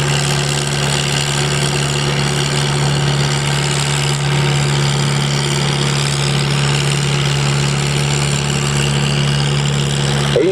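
A 4500 lb pulling tractor at a county truck and tractor pull runs in first gear of a five-speed transmission, its engine a loud, steady low drone with constant harmonic throb and no pauses, close and continuous throughout.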